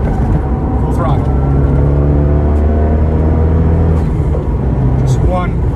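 Fiat 500 Abarth with a big GT2860 turbo pulling at full throttle in fourth gear from around 4,000 RPM, a loud continuous engine drone steadily rising in pitch inside the cabin, with a person talking over it.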